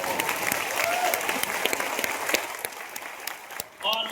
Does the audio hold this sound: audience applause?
yes